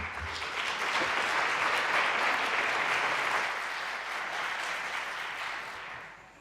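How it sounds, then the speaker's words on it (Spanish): An audience at a book presentation on Joaquín Sorolla's artistic technique gives a warm welcoming round of applause for three speakers. The clapping is full and sustained, then gradually thins out toward the end. "pedirles un aplauso de bienvenida para los tres ponentes"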